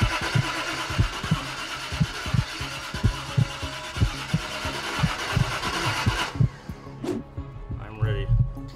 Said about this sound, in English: We are going to break in this motor.